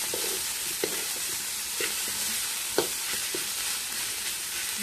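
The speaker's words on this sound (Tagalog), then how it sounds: "Adobohin muna natin yung ating sahog sa ating pansit" Pancit ingredients sautéing adobo-style in a pan, a continuous bright sizzle with occasional sharp spatula scrapes and stirring knocks, fairly close and with no talking.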